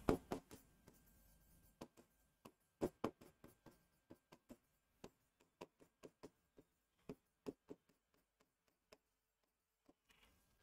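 Chalk or a marker taps and scratches as a teacher writes a spelling on a board in a vocabulary class. The strokes come as sharp, separate ticks in irregular bursts, fairly close, with near silence between them.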